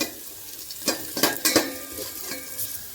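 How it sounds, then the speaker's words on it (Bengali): Ginger fries in oil in a pan under a soft, continuous sizzle, with several crisp clinks and scrapes of a utensil against the pan clustered in the middle. "আদাটা একদম লাল করে ভাজতে হবে"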